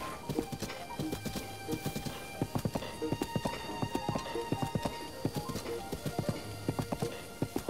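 Horse hooves clip-clop in a steady, even rhythm of close, distinct hits as the horse walks in the video game Zelda: Breath of the Wild, with faint background ambience underneath.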